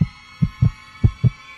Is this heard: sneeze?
no